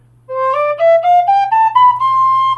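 An Octo Tune flute, a whistle-type flute with a twisted bore, plays a rising scale of clear, breathy tones, each note stepping up in quick succession, loud and close with a low steady hum underneath.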